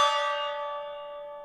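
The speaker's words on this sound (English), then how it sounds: "You guys love hearing the gong." A single gong strike during a live sports card break, one clear metallic hit that rings on with a bright shimmering tone and slowly fades, loud and alone with no talking.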